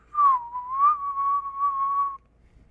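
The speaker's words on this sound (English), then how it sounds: "I'll try whistling." A single person whistles a short, wavering tune, clear and close, for about two seconds against near silence.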